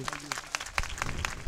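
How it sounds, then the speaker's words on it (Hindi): A crowd at an education society event gives a brief burst of applause, uneven clapping rising and falling for a moment with faint voices mixed in. "इस खूबसूरती के लिए आपकी दमदार तालियां आनी चाहिए।"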